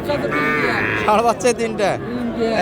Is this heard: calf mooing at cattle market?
yes